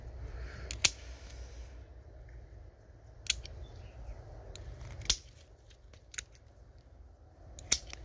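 Pruning shears snip an old mai giảo bonsai tree, four or five sharp, isolated clicks spaced a second or two apart over a low steady background hum, with no talking.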